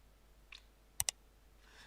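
A computer keyboard key is pressed, a quick double click close up and quiet, with a faint softer tap before it.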